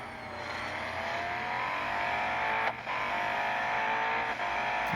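A Koenigsegg in a racing video game drives at a steady high engine drone with little variation, loud and continuous, with a couple of brief dips in the engine note.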